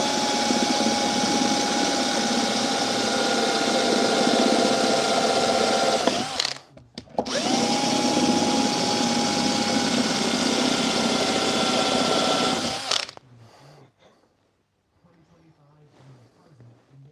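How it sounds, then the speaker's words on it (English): A power drill bores a pilot hole in two long steady whining runs with a brief stop between, loud and close, then cuts off, leaving quiet handling noises. "Clearance hole. Not clearance hole, I mean pilot hole."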